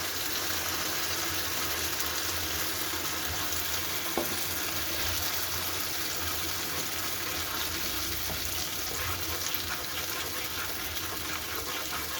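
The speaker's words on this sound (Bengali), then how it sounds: "এবার মশলাটাকে বেশ করে কষাচ্ছি।" A spice paste with spinach and coriander paste sizzles and bubbles steadily in a pan, with occasional scraping and stirring clicks, close and continuous.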